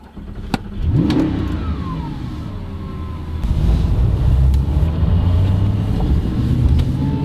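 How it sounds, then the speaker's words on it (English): An Audi R8 with a V8 engine pulls away, its low grumbling engine note rising in revs and staying loud and close throughout with a steady, throaty rumble. "when you start it up you get the big V8 grumble"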